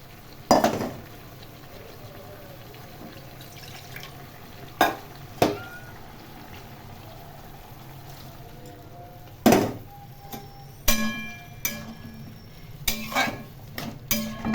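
Vegetable posto curry of potato and ridge gourd with poppy seed and chilli paste stirred in a pan, with sporadic sharp scrapes and clanks of a spoon against metal over a quiet low sizzle, close by.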